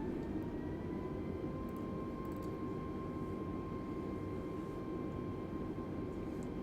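Airbus A320neo engines spooling up for takeoff in Microsoft Flight Simulator 2020, a steady, loud, dense roar with a faint tonal whine running through it, held evenly throughout with no voices.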